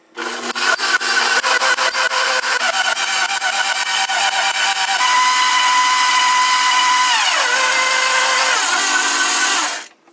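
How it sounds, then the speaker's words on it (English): An electric stand mixer whirs loudly and steadily for about ten seconds, creaming butter and sugar for a Swiss chocolate cake, its motor pitch shifting partway through before it cuts off. "So I'm going to bring the mixer over and we're going to get this thing started."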